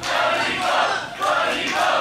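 A wrestling crowd roars and chants for the wrestler Funny Bone, a loud sustained mass of voices swelling and dipping briefly.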